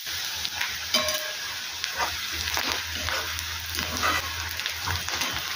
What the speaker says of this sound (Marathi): कांदा आता आपण व्यवस्थित सोनेरी रंगावर भाजून घ्यायचा आहे. व्यवस्थित असा तेलात आपण तो